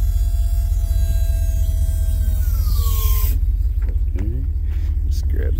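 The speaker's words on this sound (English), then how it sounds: "All right, so just want to do the gate going down here for you." A Dhollandia galvanized steel rear liftgate lowering on a 2024 Ford F-650 truck with a 24-foot Morgan body: a steady motor hum and whine that slides downward in pitch, then stops, followed by a few clicks.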